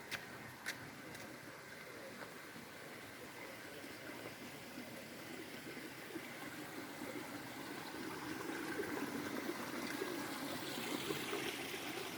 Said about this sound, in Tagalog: naririnig ko na yung lagaslas ng tubig